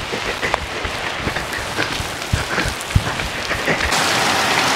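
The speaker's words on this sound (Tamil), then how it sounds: "ஐயோ, மழை வந்துடுது." Rain begins falling outdoors around a garden in Kaithady, a dense close patter of drops hitting surfaces with scattered sharper taps, steady and without speech.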